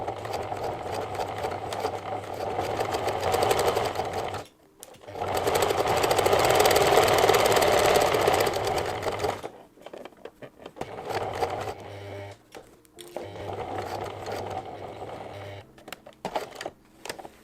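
A close sewing machine stitches a cutlery roll-up pouch in several runs of rapid, steady whirring, broken by short pauses where the work is pivoted at the corners; no talking.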